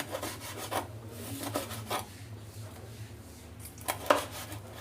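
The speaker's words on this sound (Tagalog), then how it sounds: "Hiwain lang din natin ng pahaba" Knife slicing an ingredient lengthwise on a cutting board while preparing dinakdakan, several quiet scraping cuts spaced irregularly, close and soft, with a low background hum.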